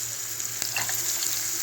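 Asafoetida frying in hot oil for a tempering, a steady close sizzle with a few small pops and crackles scattered through.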